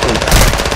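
Call of Duty DMZ video game gunfire: a loud, close burst of rapid automatic shots filling a short moment, with no talk over it.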